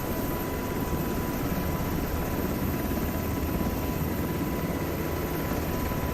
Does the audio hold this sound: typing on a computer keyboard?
no